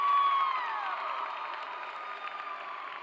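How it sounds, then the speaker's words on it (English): Applause from an audience at a high school graduation ceremony, a moderate distant patter of clapping with light cheering that slowly fades. "Could we all give them a round of applause too"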